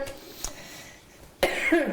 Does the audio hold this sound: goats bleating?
no